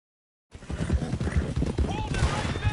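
Galloping horse hooves in a Red Dead story-mode chase, a steady rapid clip-clop rhythm running close and loud throughout, with shouting voices and game sounds mixed over it.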